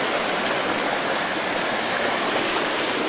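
Floodwater pours over the top of a creek bridge, a steady, loud broadband rush like a waterfall that holds constant and close for the whole stretch, with no voices.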